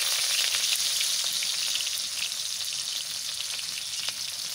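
Chopped onion sizzles in hot oil in a pan, a steady loud hiss with small pops and crackles, the frying easing slightly toward the end.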